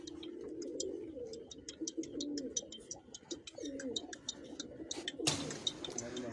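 Pigeons kept on a rooftop loft coo in low, repeated warbling phrases, close and steady, while a bright ticking chirp recurs high above and a burst of rustling noise breaks in near the end.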